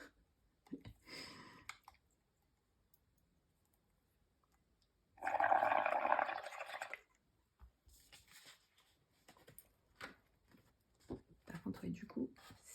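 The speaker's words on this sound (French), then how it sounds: "Non, je ne vous épargnerai pas le bruit des bulles." Soapy water being blown into bubbles for an acrylic ink bubble-painting background, a dense burst of bubbling and fizzing near 5 to 7 seconds, with quieter handling sounds and brief speech before and after.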